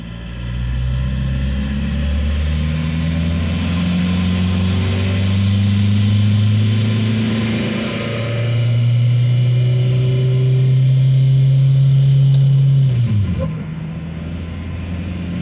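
A 1.9L diesel engine swapped into a 1-ton truck with an AW4 automatic transmission drones from inside the cab while driving. Its revs climb and fall in long rising sweeps, then settle sharply near the end.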